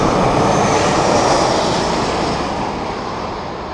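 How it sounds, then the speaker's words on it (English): Steady, loud broadband roar of aircraft near an airport, filling the whole span without a break and easing slightly toward the end, with no talking. "I'm standing near the airport, so there's planes flying by."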